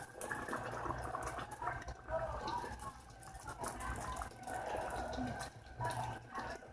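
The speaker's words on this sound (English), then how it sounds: "So now my boiling water is ready, and what I'm going to do is I'm going to pour it" Boiling water poured into a pot for sopas: a steady close splashing and running stream of liquid, with brief pauses and surges, and no talk.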